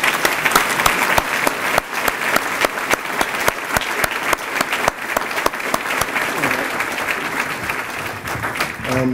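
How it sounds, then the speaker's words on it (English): A crowd claps steadily at a graduation ceremony, sustained applause of many hands filling the whole stretch without pause. "And can we get a little applause for David's recent win?"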